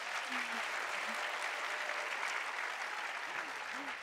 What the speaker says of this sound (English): let's do one trial run of applause